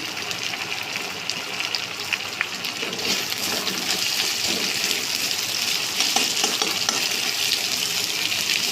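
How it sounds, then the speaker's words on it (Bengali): Chopped onion fries in leftover fish oil in a pan, producing a continuous hissing sizzle that grows a little denser midway, close and without voices. "পেঁয়াজটা একটুখানি ভাজা ভাজা করে নেবো"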